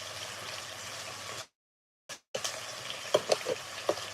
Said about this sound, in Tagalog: Gisa, tapos lagyan ko ng konting bawang.